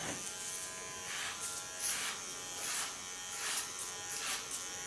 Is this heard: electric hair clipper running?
yes